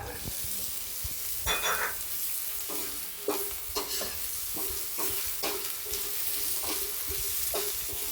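Ginger sautéed in a pan for ginataang tilapia gives a steady sizzling hiss, broken by repeated scraping stirs of a utensil against the pan at a loose, regular rhythm, close and moderately loud, with no talk.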